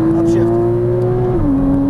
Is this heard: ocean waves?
no